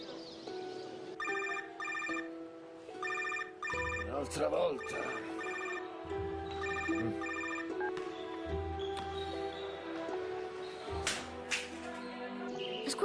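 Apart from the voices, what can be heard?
telephone ringing unanswered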